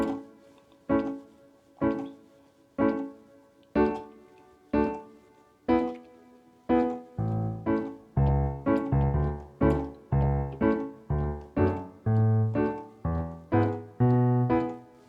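Piano plays rhythmic offbeat reggae chords, starting with sparse single stabs and then a fuller bass line joining under a steady, choppy pulse.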